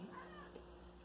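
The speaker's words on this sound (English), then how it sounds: "That's my cat, everybody." A pet cat meows once near the start, fairly faint, against a steady low background hum with no talking.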